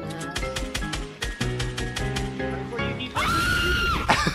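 A shrill, sustained scream rises in Fortnite near the end, following a run of rhythmic music-like game sounds, loud and close.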